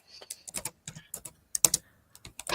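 Computer keyboard typing very close to the microphone, loud crisp irregular keystrokes in short bursts with brief pauses between them.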